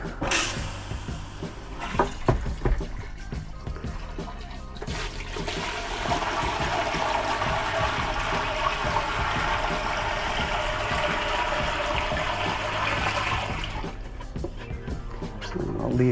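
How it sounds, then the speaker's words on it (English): Water rushes steadily for several seconds as it fills the system of a Wildwood FSX 170SS travel trailer during de-winterization, a loud, close, continuous pour that then stops. "I'm going to add 4 gallons of water."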